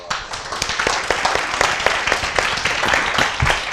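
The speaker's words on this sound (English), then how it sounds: "so a round of applause for our" A small audience at an academic conference session claps for a few seconds, with individual hand claps clearly distinct in a fairly close, uneven patter.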